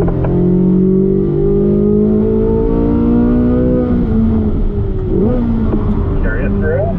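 A Chevrolet C8 Corvette Z06 accelerating down a straightaway on a 1.5-mile race track, its engine note rising steadily and loudly as it throttles up, then shifting near the end, with an instructor's voice coaching over it.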